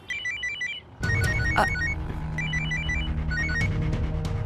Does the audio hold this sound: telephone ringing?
yes